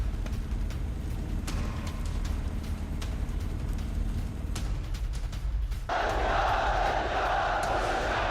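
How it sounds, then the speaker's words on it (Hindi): A crowd of protesting farmers in France, a continuous rumbling din of many voices that swells into louder, brighter shouting in the final seconds. "फ्रांस में किसानों का उग्र प्रदर्शन।"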